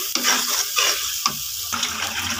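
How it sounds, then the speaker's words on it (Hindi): Spice masala roasting in a pan with a little water added, a continuous close sizzle and bubbling with a few brief stirring scrapes, no talk. "थोड़ा थोड़ा पानी डाल के हम यहाँ पे ऐड करके अपने मसाले की अच्छे से भुनाई करेंगे"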